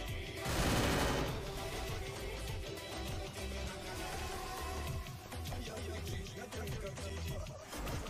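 FAMAS rifle fire in Garena Free Fire crackles in steady rapid bursts throughout during a match with headshots, fairly distant and low in level.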